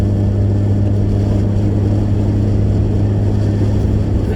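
A Chevrolet Corvette C7 sports car drives nearby, its engine a steady, loud low rumble with a constant drone throughout and no pauses or voices.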